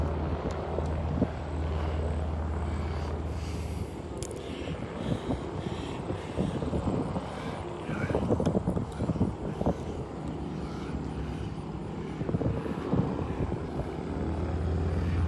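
A 1930s Stearman biplane runs its radial piston engine at a fly-in, a loud throaty propeller drone that swells and fades as it passes, with some outdoor background noise and no talking.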